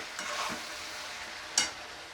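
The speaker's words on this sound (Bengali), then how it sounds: "হলুদটা দিয়ে দিলাম দিয়ে নাড়িয়ে চাড়িয়ে নিচ্ছি একটু তলায় লেগে না যায়" Turmeric and ground spices fry in a pan while being stirred, giving a soft, steady sizzle. Two or three brief scraping strokes rise above it, and the whole sound stays close but quiet.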